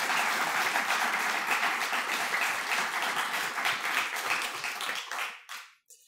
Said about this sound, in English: I think you can give her yet another round of applause.